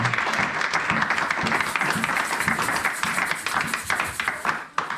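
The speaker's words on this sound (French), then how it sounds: "On acclame pour la parole de l'Éternel." A church congregation breaks into sustained, lively applause, a dense wash of clapping from many hands that holds steady for several seconds before thinning out toward the end, with a few faint voices mixed in.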